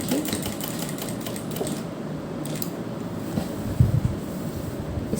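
A sewing machine stitches lace onto a neck design, sewing a neat seam along a folded lace corner; a steady, close mechanical whir runs without pause throughout.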